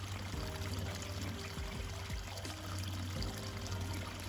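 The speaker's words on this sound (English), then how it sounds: "here we get more water's coming now" Water pours and trickles steadily into a river channel between two ponds, a soft continuous splashing flow with no voices.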